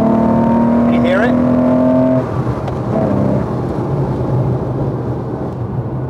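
A Porsche 911 restomod engine pulls loudly while driving on the road, its note rising and briefly dipping through a gear change before easing back to a softer cruise and road rumble.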